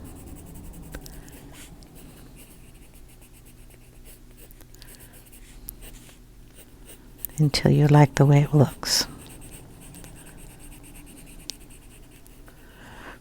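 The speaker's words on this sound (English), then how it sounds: "just go back in with the pencil again" Colored pencil scratching across paper while darkening lines on a fairy drawing, with a brief, louder burst of close strokes midway, under a person speaking.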